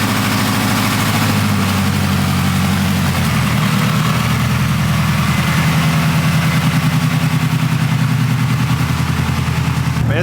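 A 1000hp all-wheel-drive build car's engine runs steadily up close after a year without starting, a loud, deep idle with a lumpy, throbbing pulse and no talk over it.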